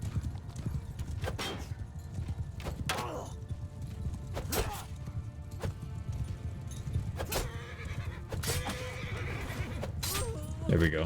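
Horses clip-clop and neigh through a video game battle against horse archers, with repeated hoof thuds and whinnies over a steady clash of background noise.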